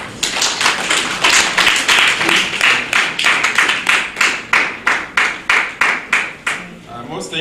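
An audience at a peace network gathering applauds a speaker: loud, close, rhythmic clapping in steady unison beats, with voices murmuring underneath.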